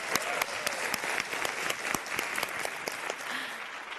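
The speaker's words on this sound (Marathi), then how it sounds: "त्याच्या स्पिरिटसाठी खरंच एकदा जोरदार टाळ्या होऊन झाल्या पाहिजे" A studio audience on a Marathi TV singing competition breaks into loud, steady applause that keeps going for several seconds with dense, sharp claps.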